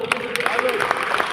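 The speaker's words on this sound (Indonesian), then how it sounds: "Tepuk salut. Oh, macam-macam di sini tepuknya macam-macam ya." An audience at a Bela Negara (state defense) training session in Rumpin, Bogor gives a short salute clap, a burst of rhythmic hand claps mixed with voices and chatter.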